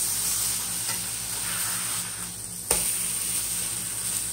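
Frozen Jennie-O turkey burgers sizzle steadily in a Blue Diamond pan, a close, even hiss with one sharp clatter partway through, no talking.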